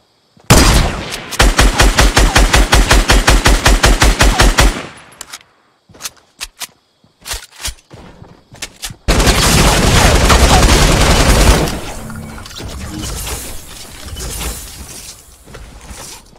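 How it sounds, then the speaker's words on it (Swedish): Rapid bursts of automatic gunfire in Fortnite rattle loudly, followed by scattered single shots and a long roaring volley, all sharp and game-like. "det där skottet hörde man alltså"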